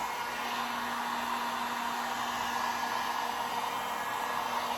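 A hair dryer blowing steadily on a freshly painted wooden sign, a constant close whooshing hum with a faint motor whine, even in level for the whole stretch, no voices.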